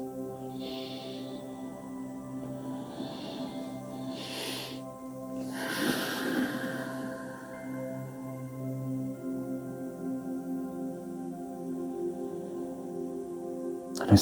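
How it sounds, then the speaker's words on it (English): A Reiki practitioner takes big, deep breaths: a couple of slow, breathy inhales and exhales over a steady, soft tonal drone, otherwise quiet and calm. "And so I do the big breaths."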